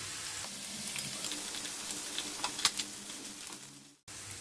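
Ginger garlic paste sizzles steadily in a hot pan while soya keema is cooked, a continuous close frying hiss with small pops and a few stirring scrapes, cutting off briefly near the end before resuming.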